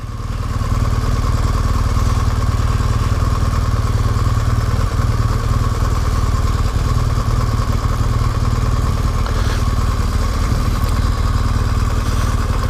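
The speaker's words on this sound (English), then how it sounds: "engine braking going down really steep stuff." A motorcycle engine braking down the steep Wrynose Pass in the Lake District, a steady low droning thrum with wind rush and occasional clatter, continuous and close throughout.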